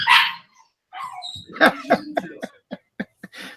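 A dog barks in a string of short, sharp yips and barks at close range, several spaced bursts following an initial louder bark, with no talk over them.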